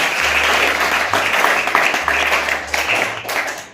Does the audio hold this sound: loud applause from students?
yes